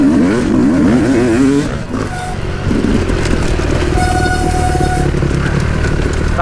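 An enduro motorcycle at a hare and hound event rides loud and close around the top of a dirt berm, its engine revving and surging, with a brief brake squeal partway through.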